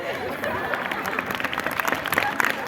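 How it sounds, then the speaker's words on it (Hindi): Schoolchildren clap together in a continuous patter of applause, moderately loud, with scattered voices and chatter underneath. "पापा की परियों के लिए बच्चे तालियां बजा रहे हैं,"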